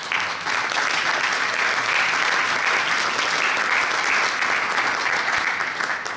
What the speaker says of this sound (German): Und einen Applaus natürlich auch